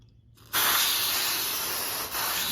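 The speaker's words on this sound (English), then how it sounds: "So I'm gonna spray this part," Lubricant is sprayed from an aerosol can onto garage door parts, a steady close hiss that starts abruptly and runs for about two seconds with one brief dip, with no talking.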